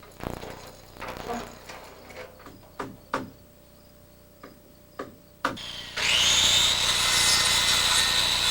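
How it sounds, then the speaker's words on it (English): Saw trimming wooden rafter tails on a house overhang: a series of sharp knocks and taps, then a loud, steady, high-pitched power saw cut running to the end. "we trim the rafter tails to match the existing soffit"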